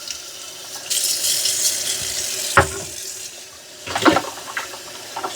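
Running tap water splashes over Narwal S20 Pro robot vacuum parts being washed in a sink, a steady broadband rush with sharper splashes and clatter near the middle and toward the end.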